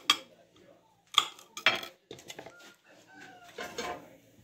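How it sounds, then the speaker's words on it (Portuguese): A knife cutting food directly on a plate in place of a cutting board, sharp scattered clinks and scrapes of metal on ceramic, fairly close, with brief voice sounds between them. "Cortando um prato, né, porque eu não tenho uma tábua de cortar ainda coisa."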